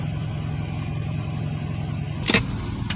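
A car engine runs steadily during a gear test, with the gear lever stiff and hard to get into first. A low, even idle hum continues throughout, broken near the end by a sharp metallic click.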